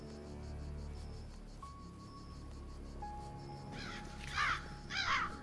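Crows cawing in the horror video game Tales Beyond The Tomb, harsh repeated caws rising toward the end over a quiet ambient bed with a faint insect drone and tonal hums.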